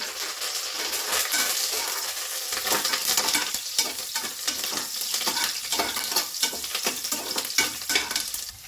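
Chilli and curry leaves crackle and sizzle steadily in hot tempering oil, with scraping stirs and a busy spatter of pops running throughout; no one speaks.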